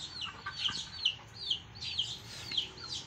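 Chickens clucking and chirping in short repeated calls, fairly close, over a low background rumble.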